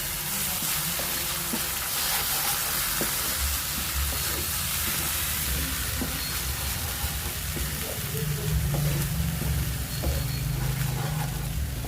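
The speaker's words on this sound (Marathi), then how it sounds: "मगज ह्याची पेस्ट घालून घातली आहे. ह्याला पण छान फ्राय करून घ्यायचंय." A paste of magaj seeds, sesame and coconut frying in oil in a pan for prawn masala gravy, giving a loud, continuous hissing sizzle that runs steadily throughout.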